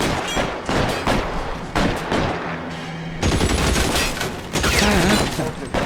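Gunfire in L.A. Noire: loud bursts of rapid shots in several volleys with short gaps between them, close and dense, with no talking.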